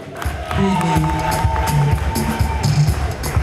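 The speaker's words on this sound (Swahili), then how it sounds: "makofi na vigelegele." A crowd in a hall at an inauguration cheers and claps, with shouting voices over a steady roar that stays loud throughout.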